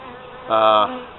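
Honeybees buzz steadily during an open hive inspection, a loud, close hum lasting under a second, with no voices.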